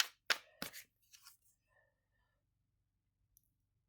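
Tarot cards shuffled off to the side, heard as a few sharp, close clicks and brief papery slaps before the sound fades into near silence, with a faint tick at the end.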